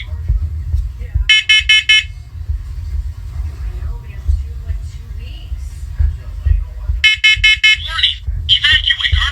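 A First Alert Onelink smoke alarm sounds two bursts of rapid, piercing electronic beeps, with a low background rumble and a few soft sounds between the bursts.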